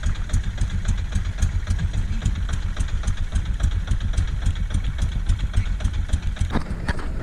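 A fishing boat's engine running steadily up close, its rapid, regular chugging thump going on without a break and no talk over it.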